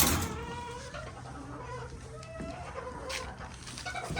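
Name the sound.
rooster and hens clucking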